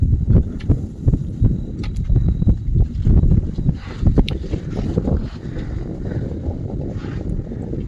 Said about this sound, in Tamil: விசு விசுன்னு அடிக்குது காற்று